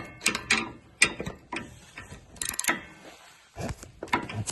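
A ratchet wrench loosens a 10 millimeter bolt during front passenger CV axle replacement on a 2003-08 Honda Pilot, giving repeated close bursts of sharp pawl clicking separated by short pauses.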